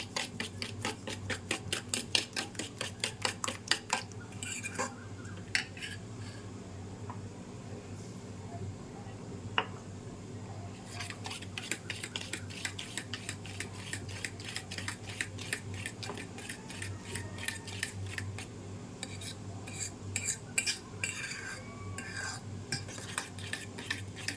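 A spoon stirs semolina into a sugar mixture for a homemade pitha, making steady scraping clicks and taps against the pot that continue throughout with only brief pauses.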